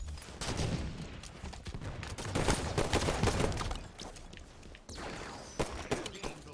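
Rapid gunfire from a sniper and other weapons in Halo 5 multiplayer, loud, dense bursts of shots and impacts packed throughout, with a brief lull before firing picks up again.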